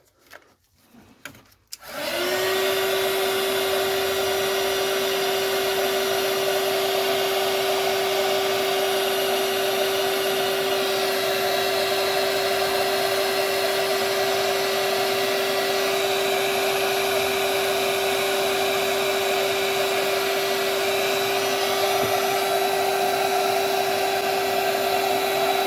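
A heat gun starts after a brief handling click and then blows a loud, steady whirring roar while shrinking glue-lined heat shrink tubing on a BMW 116 wiring loom, running continuously to the end.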